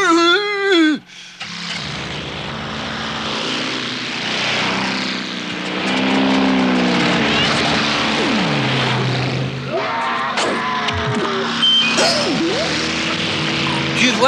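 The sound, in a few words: airplane engine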